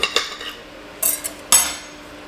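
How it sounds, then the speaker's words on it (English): A knife cuts a restaurant sandwich in half with a few crisp, crunchy strokes, bright and close, in short separate bursts over about two seconds. "Now let's slice it in half and have a bite."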